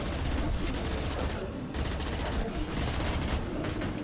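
Shotgun fire in the Mass Effect 2 video game crackles in dense, rapid bursts close by. A brief gap breaks the firing partway through before another burst starts, and a voice talks faintly beneath it.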